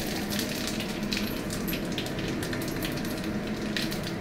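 Bay leaf, cumin, panch phoron and two dried chillies sizzle in hot oil, a close, steady crackling hiss with fine popping that stays even throughout and no one speaking.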